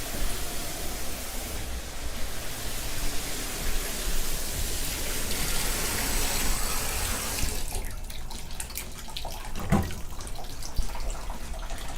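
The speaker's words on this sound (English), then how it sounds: "Turn the sink back on again. Flush the toilet again. Now all the fixtures are running" Water rushes steadily from a bathroom sink faucet while a toilet flushes, heard close during a home inspection. The broadband hiss changes character about two-thirds of the way through and continues without talk.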